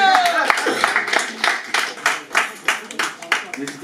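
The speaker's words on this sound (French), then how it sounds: "on applaudit" A small audience claps in a loose, uneven rhythm of separate hand claps, fairly close and moderately loud, at a French-speaking community gathering.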